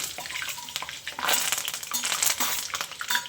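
Curry leaves dropped into hot oil with popped mustard seeds crackle and sizzle loudly and steadily, with bursts of spitting throughout.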